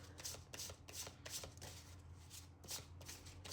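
Tarot cards are shuffled in a steady run of crisp riffling bursts, close and fairly quiet, with no talk over them.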